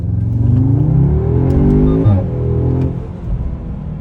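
An Audi car with 19-inch wheels accelerates, its engine revving with rising, sweeping tones that climb and then drop off, loud and close from inside the vehicle, with no talk over it.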